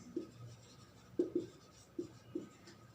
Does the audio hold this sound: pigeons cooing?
no